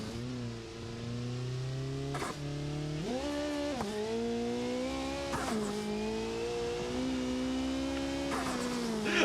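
Turbocharged car in BeamNG.Drive with a big turbo, engine droning and rising through repeated revs while a fluttering whoosh sits loud over it, with brief breaks at gear changes.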